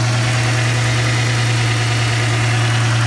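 A 2008 Dodge Charger with the 3.5 engine idles close by, a loud, steady low hum with an even mechanical drone that holds without change throughout.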